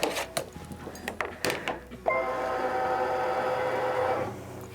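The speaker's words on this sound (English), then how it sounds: "the frame is going to move just so that you make sure that everything's out of the way" A Brother Luminaire 2 embroidery machine runs its calibration: a few sharp clicks and knocks, then the frame carriage drives with a steady, close motorized whir for about two seconds before stopping.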